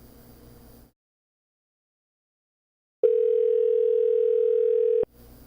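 A steady single-pitch telephone tone plays loudly for about two seconds during an outgoing call just before it goes to voicemail, set between brief stretches of silence and faint background noise.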